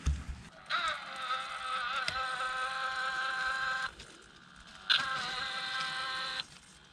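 A 1400 kV plane motor driven by an iFlight Succex 55 amp ESC on modified AM32 firmware spins up in two bursts, each a bright electric whine with layered tones that holds for a few seconds before cutting off.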